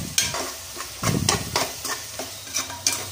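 A masala with Byadgi and Guntur chillies, alongside capsicum, stir-fried in a pan for paneer fried rice, with repeated sharp scraping strokes of a spatula every fraction of a second over a soft, continuous sizzle.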